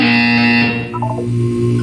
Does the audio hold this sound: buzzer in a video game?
yes